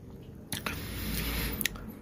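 A crunchy fried snack made from eggs and glutinous rice flour is bitten close to the mic, a sharp crisp crack followed by steady moist chewing and a second crunchy bite near the end.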